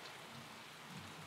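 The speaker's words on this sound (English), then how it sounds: "I love the rain though. It's a vibe." Rain falls steadily outside, a faint continuous hiss of drops with no voices.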